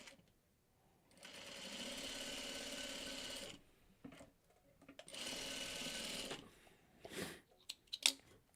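A sewing machine stitches quilt blocks together for a Dresden quilt block, running in two sustained bursts of steady whirring, each about two to three seconds, with short handling clicks and rustles between and after.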